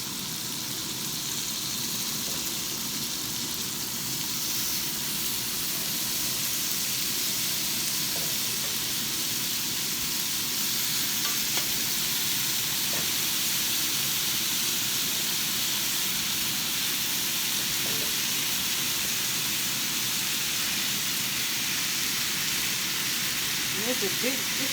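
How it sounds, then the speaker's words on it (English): Steak strips frying on high heat in a big cast iron pan on the stove, a steady loud sizzle and hiss that fills the whole stretch. "Now I'm gonna just add the steak strips in."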